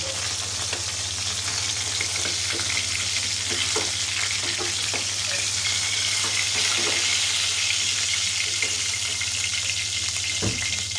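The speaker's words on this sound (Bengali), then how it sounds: "আমার মাছটা ভাজা হয়ে গিয়েছে সুন্দর করে" Pieces of katla fish fry in hot oil in a pan, a continuous close sizzle and crackle with occasional stirring or scraping clicks, alone without speech and with a steady low hum underneath.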